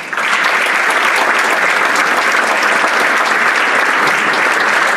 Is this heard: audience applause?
yes